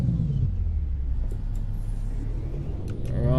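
A Jake brake on a Peterbilt 389 in American Truck Simulator gives a steady, deep, throbbing engine rumble under continuous road drone, moderately loud throughout.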